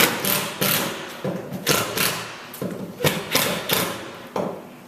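Fasteners are driven into the bottom planks of a 1956 Chris Craft 17-foot Sportsman, bedded in 5200 over plywood, as a quick series of sharp, close, loud thumping bursts in an uneven rhythm.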